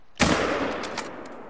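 Single rifle shot in the hunting game theHunter: Call of the Wild, a sharp loud crack followed by a long rolling echo that decays over about a second.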